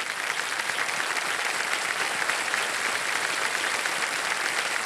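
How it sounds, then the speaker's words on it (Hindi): Loud, continuous studio audience applause on the quiz show Kaun Banega Crorepati season 17 after a contestant wins five lakh rupees: a dense, even wash of many hands clapping close by for about five seconds, with no voices. "तालियां बज जाए इनके लिए।"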